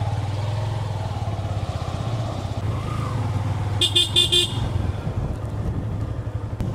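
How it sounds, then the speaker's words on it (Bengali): A motorcycle riding along a riverside country road: a steady low engine drone heard from on the bike, with a short burst of several horn toots partway through. "এই যে দেখো বাইকে করে যাচ্ছি আমরা"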